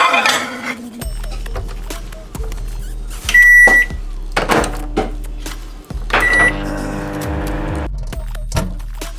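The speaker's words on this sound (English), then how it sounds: "We're gonna put it in microwave for 1 minute." A microwave hums steadily with a low drone, punctuated by clicks, clatter and a few high electronic beeps.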